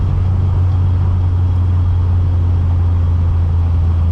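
A Mk2 with an ITB 16v engine and fitted Pipercross filters runs steadily at idle, giving a loud, constant low rumble with no revving changes and no voices.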